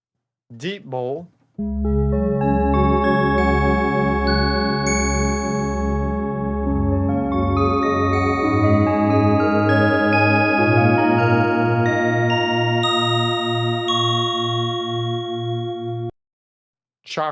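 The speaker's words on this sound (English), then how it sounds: "Deep Bowl." A deep singing bowl sample hums with a low pulsing fundamental and rich shimmering overtones, sustained loudly for about fourteen seconds, with brief spoken voice just before and after.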